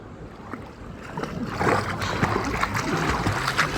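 Someone swims and splashes in seawater at a beach, with soft sloshing and churning water close by that gets a bit louder partway through, and no voices.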